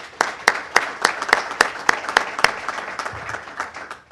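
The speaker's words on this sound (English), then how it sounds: "I'd like to give them a round of applause." Audience applause at a Big South basketball championship event, a dense run of clapping with sharp individual claps standing out, fairly close and steady before tapering off.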